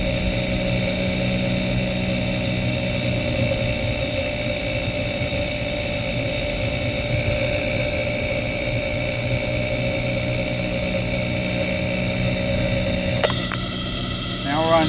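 A worn wheel bearing on a Chevy Cruze driving at about 40 mph gives a steady droning hum inside the cabin. It blends with constant road and engine noise, with a brief rattly disturbance near the end.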